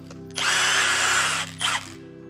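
Power tool loosening cylinder head bolts on a Subaru EJ257 engine: a loud, close, high-pitched whine bursting for about a second, a short second burst, then a steady low hum underneath.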